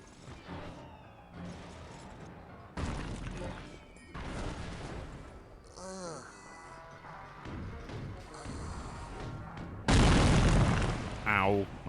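Confusion grenade blasts in the video game Psychonauts: two loud, booming bursts, the second stronger, set among stretches of voices and game sounds.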